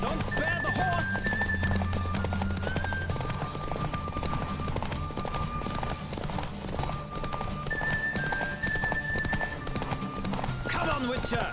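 A horse races at full gallop in The Witcher 3, its rapid drumming hoofbeats constant and close throughout, layered with game music and ambient noise.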